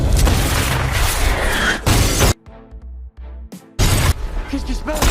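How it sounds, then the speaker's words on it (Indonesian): A loud, rumbling bazooka blast destroying a house with crashing debris, a short lull with low tonal hum, then another roaring burst of destruction. "Dan diledakkanlah rumah Giovanni itu dengan Giovanni masih berada di dalamnya dengan bazooka."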